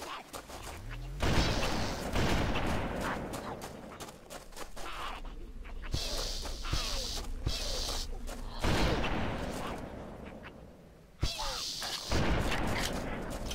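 Gunfire in Halo's Silent Cartographer mission, a series of sharp, loud shots and bursts spread across the clip amid battle noise, with a voice speaking briefly in between.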